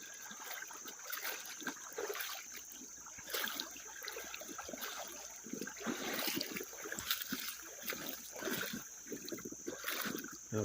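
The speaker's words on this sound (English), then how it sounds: "the creek just flows right over some of this big" Water from a Tennessee creek runs over broad rock plates on the streambed, a steady close trickling and splashing with brief rippling bursts and no talk.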